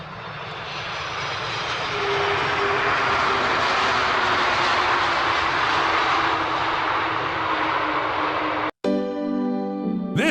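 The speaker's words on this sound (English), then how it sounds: "This is one of the smoothest A330 landings I've seen on the internet." An Airbus A330 airliner landing in strong gusty wind: a loud, sustained jet engine roar with a broad rushing wash and a faint rising whine, heard up close and alone, cut briefly near the end before a tonal sound follows.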